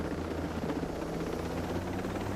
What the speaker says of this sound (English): you don't really have a limited number of these helicopters